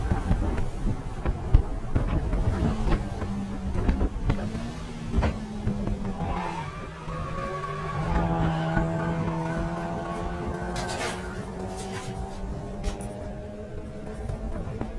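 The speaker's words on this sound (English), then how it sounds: "I panic and quickly slam back on the brakes as hard as possible, and as you can hear, the rears lock and I go straight on." A Mazda MX5 race car brakes hard until the rear tyres lock, producing a long drawn-out squeal with shifting tones over engine noise; it sounds close and fairly steady, lasting several seconds.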